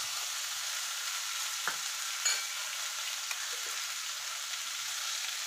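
Vegetables and whole spices with onion, beans, tomato and green chilli stir-frying for fried rice, a steady soft sizzle with a few scraping stirs of the spatula throughout, no voices.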